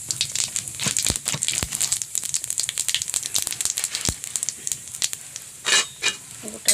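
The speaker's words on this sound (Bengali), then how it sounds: "আমি এখানে কিছুটা গোটা জিরে ফোড়ন দিয়ে দিলাম।" Whole cumin seeds dropped into plenty of hot oil crackle and sizzle up close, with a dense stream of sharp pops and a few louder spits over a steady frying hiss.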